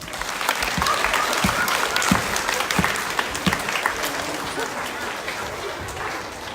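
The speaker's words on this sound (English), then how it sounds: "so give them all a big clap." Children and staff at a school assembly applaud three classes for fundraising, a steady wash of many hands clapping with a few sharper individual claps standing out, fading slightly toward the end.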